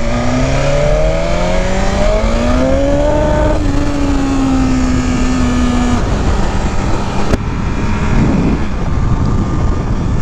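A sport motorcycle engine pulls steadily while riding, its tone climbing and holding as the rider shifts gears, loud and continuous with wind rush and no talking.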